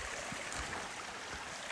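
Small creek at a trail crossing on a mountain hike in Kananaskis gives a steady, soft broadband rush of running water, faint and even throughout with no talk.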